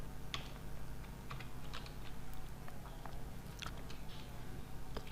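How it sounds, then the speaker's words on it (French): Rapid keystrokes clatter on a computer keyboard as a formula is typed into an Excel spreadsheet, an irregular run of close, crisp taps over a low background hum. "vous pourrez par exemple ici plutôt taper la formule"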